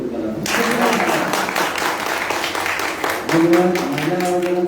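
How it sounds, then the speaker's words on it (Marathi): Audience applause for a mother at a readers' gathering, dense clapping from a crowd that starts abruptly and keeps going at a steady level, with a voice coming in over it near the end. "टाळ्यांचा गडगडाट आईचं कौतुक करा"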